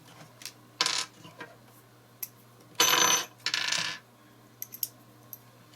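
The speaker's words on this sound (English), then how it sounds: "Then we put our little screws back in place." Tiny screws being dropped and fitted back into a solar battery bank box: scattered small metallic clicks and clatters, with a couple of longer rattling bursts, close and otherwise quiet.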